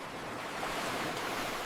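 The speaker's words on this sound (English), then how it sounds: "Be careful near the waves." Steady wash of ocean surf at a beach, a continuous broadband roar with no distinct breaks, fairly loud and close.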